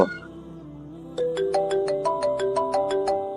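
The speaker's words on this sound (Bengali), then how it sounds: "এই সময় আবার কে ফোন করলো" A melodic phone ringtone starts after a brief pause, repeating a bright chiming pattern, loud and close.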